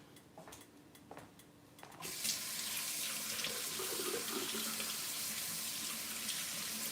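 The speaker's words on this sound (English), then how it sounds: "So I'm going to rinse my carrots off." Carrots rinsed under a kitchen tap: light clicks and handling first, then water gushes on and runs steadily, splashing close in a sink with shifting tone as the carrots are moved through the stream; no talking.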